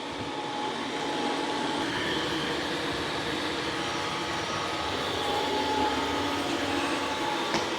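A robot vacuum mop runs across a floor, vacuuming and mopping at once, giving a steady, even motor whir with a faint high whine, continuous and moderately close.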